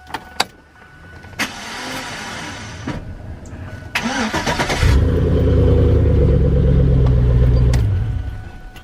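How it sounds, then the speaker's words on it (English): A 5.3-litre Chevrolet Silverado truck starter cranks when the key is turned, spinning freely without catching the engine, a loud steady whirring that builds and holds for several seconds after a few short clicks. "I turned the key over and it makes that spinning noise"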